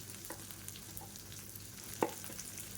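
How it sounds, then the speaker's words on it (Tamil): Small chopped shallots sizzle in hot oil with dal, curry leaves and green chillies, giving a steady, quiet crackling fry with a sharp clink or stir around the middle, no talk. "இப்போ இதில் பொடியாக நறுக்கின வெங்காயம் சேர்த்துக்கலாம்."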